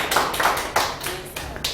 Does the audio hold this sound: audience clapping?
yes